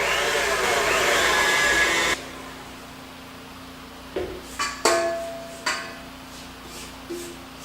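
Electric hand mixer creaming a stick of unsalted butter with sugar for a cane syrup cake, a loud steady whir for about two seconds that stops abruptly, followed by several sharp clinks against the bowl.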